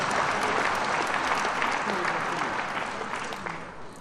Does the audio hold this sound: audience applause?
yes